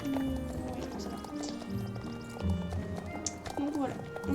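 A Lusitano horse moves through its gaits with steady clip-clop hooves and a few snorts, heard under continuous close talking.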